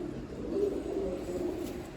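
A bird coos softly in low, repeated notes against a quiet, hushed background.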